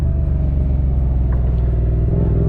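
A motorcycle engine revving hard, close and loud, a throbbing low rumble held steady through a brief clutch-up wheelie practice run.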